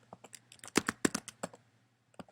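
Keys clatter on a computer keyboard in quick irregular bursts of clicks, close and crisp, with a short pause before a final couple of taps.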